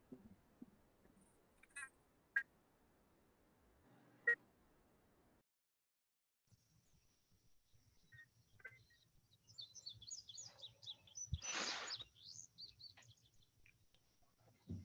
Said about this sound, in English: Cool hearing the birds chirping though.